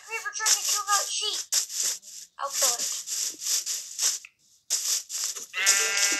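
Sheep bleat in Minecraft, several short wavering calls mixed among a player's excited talk and game noises, fairly close and loud.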